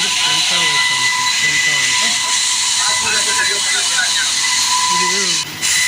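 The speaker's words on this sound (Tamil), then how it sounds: "இது பென்டா ஒர்க் மிஷின்." A Penta wire saw machine cuts granite with a diamond wire rope, giving off a loud, steady, high-pitched hissing whine across an industrial stone yard while someone talks over it.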